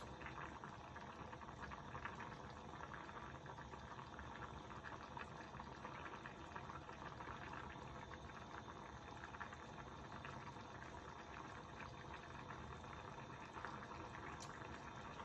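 Turmeric coconut rice simmers in a pot with a soft, continuous bubbling that holds steady and fairly faint, with no voices.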